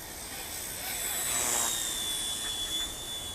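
A small WLToys V911S RC helicopter flies outdoors in wind, its rotor making a thin, high whine that swells slightly and then eases, under a steady wash of wind noise.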